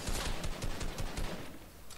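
Rapid bursts of gunfire from a shotgun fight in the video game Fortnite, a quick run of sharp shots at close range, fading toward the end.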